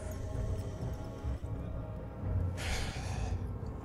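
A monster breathes in the horror game Amnesia: The Dark Descent, a steady, heavy rasping drone with slow snorting gasps, sustained and close throughout with no talk over it.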